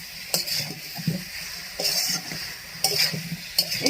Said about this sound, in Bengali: ফুলকপি ঢেলে এবার ভালো করে আমি নেড়ে নেব।